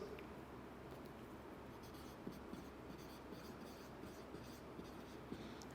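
Faint scratching and tapping of a pen or chalk on a board runs through a chemistry lecture, with small sharp strokes standing out over a steady background hiss.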